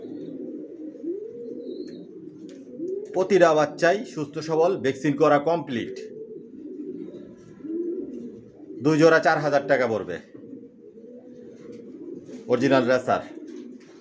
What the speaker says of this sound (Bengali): অনেক কবুতর পালি, নিজের লফট থেকেই বাচ্চা রেডি করি।